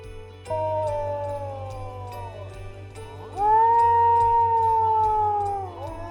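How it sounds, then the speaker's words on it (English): A wolf howls in two long, drawn-out sustained tones, the second louder and steadier, clear and close over a faint low background hum, with no talk. "Wolf"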